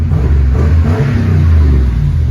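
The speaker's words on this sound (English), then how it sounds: "Let's give it some gas here." A Ram 1500 Sport's 5.7 L Hemi V8 revs up close and loud, a deep rumbling roar that swells and holds steady for a couple of seconds with no talking.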